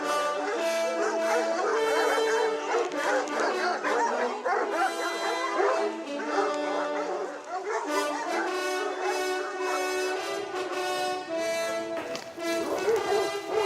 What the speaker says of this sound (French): Les chiens se réveillent. Ils ont envie d'aller chasser.